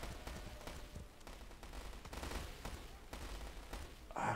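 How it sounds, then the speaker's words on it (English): A cannon fires in a World War strategy video game, with rapid bursts of distant gunfire and booming shots rolling through a busy battle soundscape, fairly faint throughout. "That's just a normal cannon."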